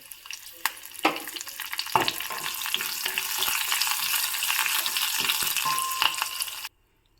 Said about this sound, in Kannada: ಒಗ್ಗರಣೆನ ಚೆನ್ನಾಗಿ ಬಾಡಿಸ್ಕೋಬೇಕು